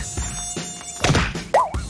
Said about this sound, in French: Sale moustique.